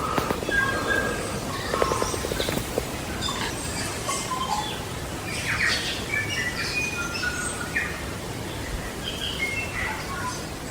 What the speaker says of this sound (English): we're listening to the fantastic endemic bird known as the tui